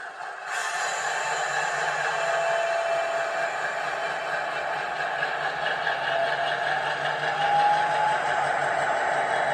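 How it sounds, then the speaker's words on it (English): A steady, droning diesel engine hum with a faint whine from a Cavalex class 60 model locomotive's DCC sound, holding at a constant level for several seconds with no talking. "Give her a quick wiggle back and forth to see what those engine sounds are like."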